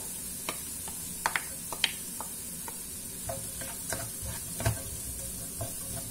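Peppers are stirred into a pan of rice vermicelli sautéed with tuna, with sharp scraping and tapping stirs scattered over a soft, continuous sizzle, no one speaking.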